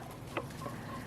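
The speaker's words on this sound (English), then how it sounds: "black Australorp roosters" A black Australorp rooster gives a brief low cluck amid a flock of several roosters on a homestead, one quick sound over a soft background murmur of birds.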